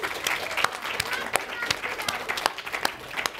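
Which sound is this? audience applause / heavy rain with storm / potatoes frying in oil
audience applause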